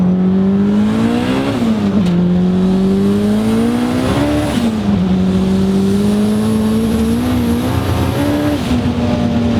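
A turbocharged Honda EG hatchback sleeper with a single-cam engine and GT28 turbo accelerates hard, engine droning loud and near as it climbs through gears with brief dips at each shift.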